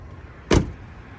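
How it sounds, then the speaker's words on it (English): A single short thunk rises from the hood of a 2003 Ford F-150 Lariat Super Cab FX4 with a 5.4-liter Triton V8 as it is popped open, a brief close latch release against near silence. "we want to pop the hood"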